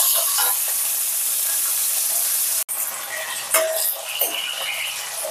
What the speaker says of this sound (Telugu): ఆ ఆయిల్ లో ఈ దొండకాయలు వేసి ఫ్రై చేసుకోవాలి